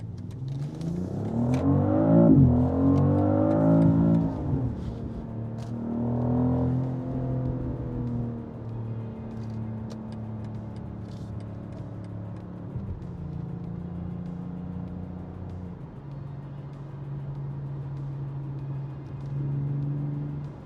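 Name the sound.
2025 BMW X3 M50 driving and accelerating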